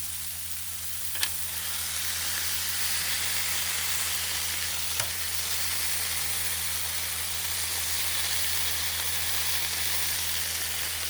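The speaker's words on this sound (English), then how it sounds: "Getting that sear going." Smash burgers sear on a Blackstone flat-top griddle, giving a steady, loud, continuous sizzle with a steady hiss and a couple of sharp scraping clicks from the spatula.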